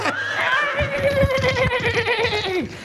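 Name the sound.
horse neighing sound effect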